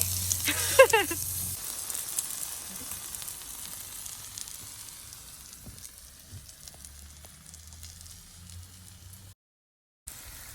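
Close, continuous sizzling and crackling of pork frying on a hot Thai moo kratha grill pan in a backyard, a louder burst at first, then a steady hiss that briefly cuts out near the end.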